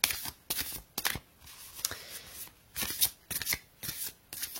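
Oracle cards being shuffled by hand in repeated quick riffling bursts, close and fairly clear, with short pauses between each burst and no talking.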